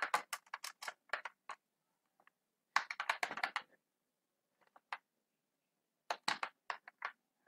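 Bursts of quick, light key clicks from a computer keyboard, typed in three separate runs with pauses between, close and fairly quiet with no talking.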